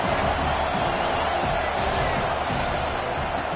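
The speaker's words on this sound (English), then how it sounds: "this crowd is turning it up a notch" Stadium crowd at a football game roaring steadily through second down, a dense, sustained wash of cheering from many voices that holds loud and even throughout.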